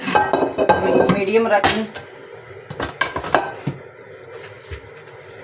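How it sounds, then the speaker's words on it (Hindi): A pan and open wok clatter on a home kitchen stove while making sweet grain kheer, with metallic clinks and scraping loudest early on, then sparser knocks as someone speaks briefly. "अब अपना एक पैन लेंगे, खुला सी कढ़ाई ले लें"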